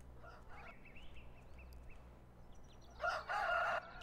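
Poultry in Farming Simulator 2013 calls out in short, faint squawks early on, then a louder, brighter burst of crowing or cackling near the end, set over a steady low game hum with no talk.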